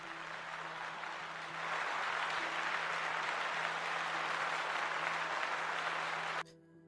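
Sustained applause from a small online audience at the close of a segment reviewing D&D homebrew, a steady wash of clapping that holds level for about six seconds before dropping off abruptly near the end.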